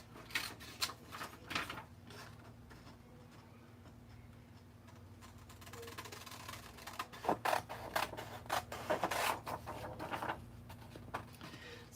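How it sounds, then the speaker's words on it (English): Paper being cut with scissors along a dotted line, heard as a run of close, quiet clicking snips, sparse at first and then quicker and denser toward the end. "And you just cut it along the dotted line."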